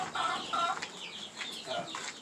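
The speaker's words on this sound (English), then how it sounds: "The hens come in." Hens in a game-chick coop cluck in quiet, close bursts, several short calls overlapping one after another in an otherwise calm, enclosed space.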